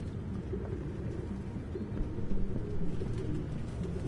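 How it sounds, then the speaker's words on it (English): Pigeons coo in a steady, low murmur inside a room in the video game Detroit: Become Human. The cooing is continuous and fairly close, with no voices over it. "No human could live with all these fucking pigeons."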